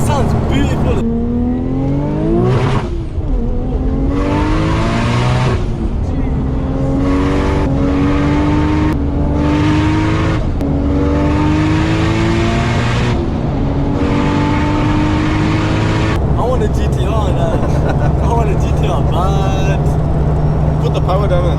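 A 1000bhp Nissan Skyline R33 GT-R driven hard, its engine climbing through repeated loud rising revs with brief drops at each gear change, heard from close inside the car while people talk over it.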